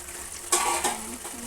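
Potatoes and tomato simmer in a pan on a stove over medium flame, giving a soft bubbling hiss with a couple of brief louder sputters during the short moment.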